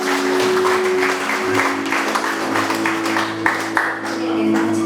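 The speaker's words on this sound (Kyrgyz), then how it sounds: "Бир кол чаап коңуздар." Audience clapping at a Kyrgyz family celebration in Krasnoyarsk, a steady ripple of applause filling the hall for several seconds with some voices murmuring underneath.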